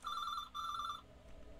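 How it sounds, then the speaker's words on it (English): Telephone ringing in a video game: two loud electronic ring bursts in quick succession, each about half a second long, then quieter room hum as the ringing stops. "If I don't pick up, it'll keep on ringing."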